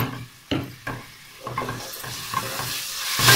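Onion with ginger-garlic paste frying in a pan, a steady sizzle broken by several sharp stirring scrapes of a spoon, close and moderately loud with no talking.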